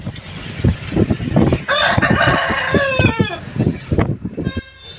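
An eight-month-old rooster being sold crows one long, loud call with a drawn-out tail, close by. Busy clucking, scratching and thumps from other fowl fill the space before and after it.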